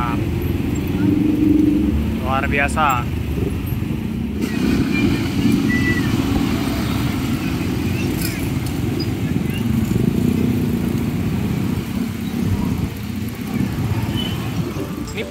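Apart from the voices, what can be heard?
garbage truck passing on the road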